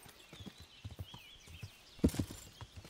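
Horse hooves climbing in the game Kingdom Come: Deliverance, a run of soft clip-clop steps followed by a heavier thud, with faint game ambience behind.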